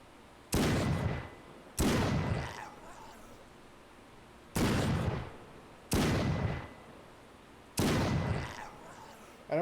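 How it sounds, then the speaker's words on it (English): Revolver shots ring out in the zombie shooter game Andromeda One Zombies, five loud, sharp reports in uneven pairs, each ending in a short metallic ring and decaying tail. "I want you to listen to the sound the revolver is making"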